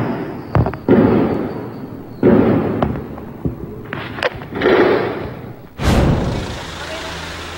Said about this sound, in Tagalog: Sumunod na ang umaalingaw-ngaw na palitan ng putok ng magkabilang panig.